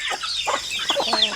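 Backyard chickens clucking close by, a few soft overlapping clucks and calls in a short continuous burst with no talk.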